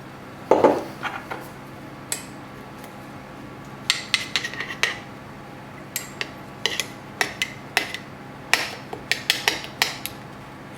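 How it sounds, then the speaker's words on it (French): A utensil scrapes and taps against a bowl while maple syrup and sesame glaze for salmon are stirred together, giving irregular clinks and knocks, close and fairly loud, with quiet pauses between bursts. "On mélange le tout."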